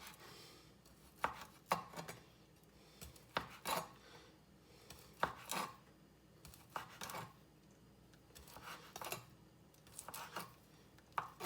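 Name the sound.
knife slicing cooked meatballs and sausage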